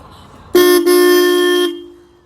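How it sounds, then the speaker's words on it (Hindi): A loud, heavy pressure horn on a modified Royal Enfield Bullet 350 motorcycle blares once, with a split-second break near the start, holding for about a second before cutting off. "बहुत ज़्यादा हैवी साउंड है, प्रेशर वाले हॉर्न है।"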